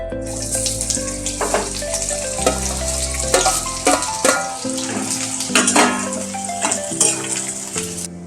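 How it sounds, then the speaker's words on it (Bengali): Chopped onions, about 300 to 350 grams, fry in white oil for a biryani, a steady close sizzle broken by bursts of stirring and scraping in the pan, with a sustained tonal hum running underneath throughout. "এবার পেঁয়াজটা এই সাদা তেলে আমি ফ্রাই করে নেব।"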